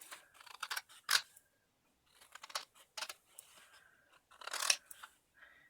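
Scissors snip through material to cut out small watermelon slice shapes, giving a series of close, crisp cutting crunches in short bursts separated by brief pauses.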